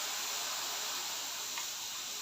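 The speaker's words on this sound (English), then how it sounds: "so I'm steam pressing it" Steam iron pressing fabric for a dress appliqué, giving off a soft, steady hiss of steam with a brief faint click near the end.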